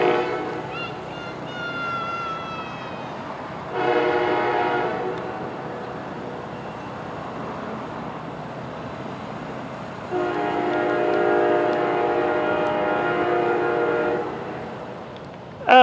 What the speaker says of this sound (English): here comes the Coast Starlight about to blow through Moorpark